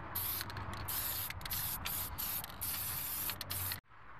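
Aerosol spray paint hisses in steady bursts onto truck wheels, close and loud, with several brief pauses before the spraying stops abruptly near the end.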